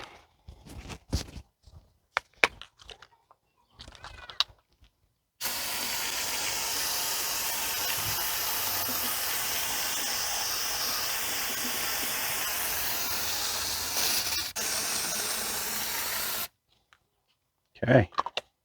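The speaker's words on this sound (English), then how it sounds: "Go ahead and spray it." A long continuous hissing spray of aircraft paint remover being applied to a Honda H22A valve cover, running steadily for about eleven seconds between brief handling clatter before and after.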